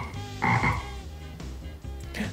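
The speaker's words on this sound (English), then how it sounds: "A small black frog spirit appears out of nowhere and starts hopping around the place." Frog spirits in the video game Dayshift at Freddy's 2 croak over game music, two loud close croaks in quick succession near the start and a third at the end.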